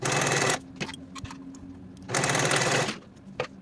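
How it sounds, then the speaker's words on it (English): A sewing machine or serger stitches the side seams of a homemade elastic-free undergarment at a quarter-inch seam allowance, running in two steady whirring bursts separated by quiet handling noises, close and clear. "Sew or serge the side seams with the 1/4 inch seam allowance."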